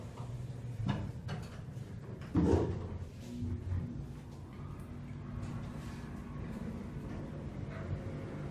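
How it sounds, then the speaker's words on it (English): A ThyssenKrupp elevator motor in a health building runs as a steady low hum, with a few knocks and a louder thump early on as the car moves, heard from inside the cab. "Listen to this motor."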